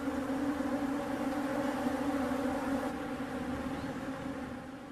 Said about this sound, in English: sometimes they attract thirsty bees drawn to this unlikely source of moisture